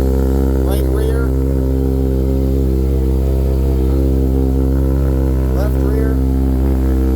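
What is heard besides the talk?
2009 Kawasaki Ninja ZX-6R motorcycle engine running and blipping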